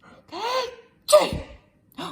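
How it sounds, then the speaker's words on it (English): A person's sneeze, breathy intake and a sharp burst, followed by a short gasp, heard close and clear against silence. "Presently, Peter sneezed."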